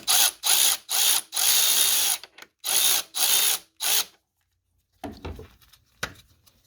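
A hand ratchet tightens the tensioner bolt on a Hyundai/Kia 1.6 GDi G4FD engine's serpentine belt, giving six loud, close bursts of rapid clicking separated by short pauses, then a few faint knocks and handling noises.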